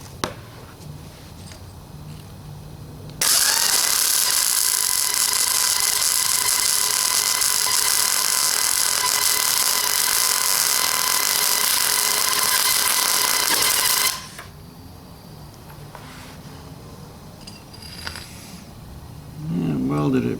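Arc welding on 1/4 inch steel at 100 amps, a loud steady crackling buzz holding for about eleven seconds between quieter shop background, with a brief bump of noise near the end.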